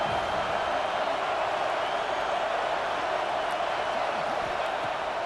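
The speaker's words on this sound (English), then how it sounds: "this crowd is turning it up a notch" A football stadium crowd roars as a steady, dense wash of distant noise from many voices, sustained and even throughout, with no single voice standing out.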